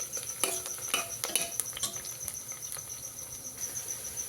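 Chillies and red-browned onions fry in a pan for a chicken biryani, with soft scraping stirs and light crackling sizzle under a faint steady high hiss.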